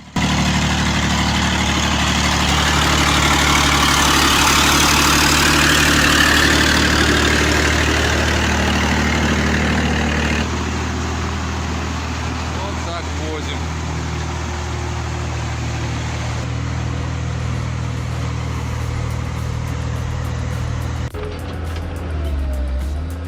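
A Ural truck engine runs as a loud, steady low rumble close by. It drops to a quieter idle partway through and shifts tone again near the end.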